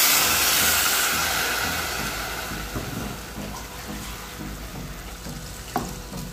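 Water poured onto rice frying in oil and garlic in a pan, setting off a loud burst of hissing sizzle that eases into a steady bubbling crackle.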